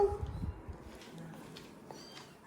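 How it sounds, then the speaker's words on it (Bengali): A hungry cat at home meows for food, with a short, fairly quiet cry near the start followed by faint household background. "পুষির খাবারটা পুষিকে দিয়ে দিই বাবা, খিদেতে আছে, কাল থেকে কিছু খাইনি।"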